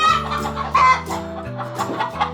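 Chickens clucking in their roost: several close, loud, throaty clucks and squawks overlapping in quick irregular bursts.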